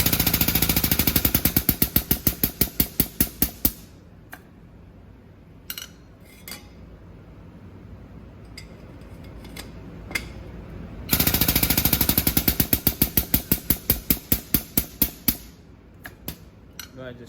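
A pipe expander works inside a stainless steel exhaust pipe for a 1969 Pontiac GTO Convertible, giving two long bursts of rapid, loud mechanical hammering with a quieter pause between them filled with a few scattered clanks.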